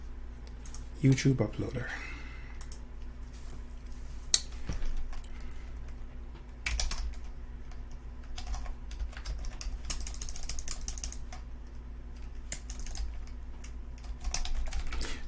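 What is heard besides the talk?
typing on a computer keyboard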